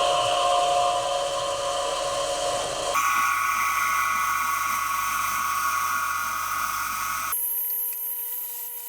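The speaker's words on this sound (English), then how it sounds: "I drilled a hole." A drill bores a hole through a steel foot control part held in a vise for a Honda Trail CT70 mini chopper, a steady close whine with a pitch shift partway through, then the motor spinning down near the end.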